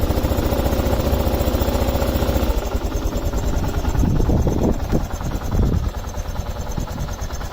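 A 2001 Kawasaki KLR 650 single-cylinder motorcycle engine runs close by at a steady idle, then its note shifts and rises as the throttle is worked, with wind buffeting over it throughout.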